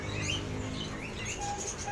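Caged songbirds chirp in a busy bird market, a dense layer of overlapping tweets and calls running throughout over a steady crowd murmur, with a couple of brief clear whistles near the end.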